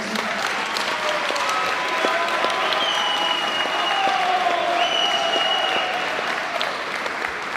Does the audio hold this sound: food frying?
no